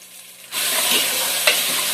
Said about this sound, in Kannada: ಈಗ ಫ್ರೈ ಮಾಡ್ಕೊಳ್ತಾ ಇದ್ದೀನಿ ಬಟಾಣಿ ನೀಟಾಗಿ